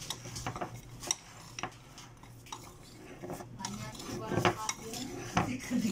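Walnuts are crushed by hand in a kitchen for a katayef filling, giving irregular clattering knocks and scraping of utensils against a bowl, fairly quiet with several sharper hits near the end.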